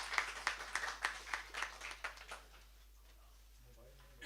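Audience at a mushaira poetry gathering and kavi sammelan in Badshah Market, Jaora, clapping in a short burst of applause that fades out after about two seconds, leaving quiet room tone.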